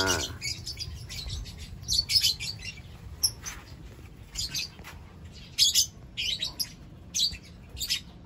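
Several lovebirds chirp in short, sharp bursts that come and go irregularly, including a PB creamino parent bird. The calls are moderately close, with faint shuffling and rustling between them and no talking.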